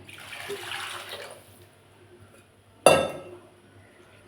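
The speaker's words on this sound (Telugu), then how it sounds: "కొంచెం వాటర్ పోసుకొని" A brief splash of water poured into a vessel, sharp onset then fading, after a soft earlier trickle; no talking.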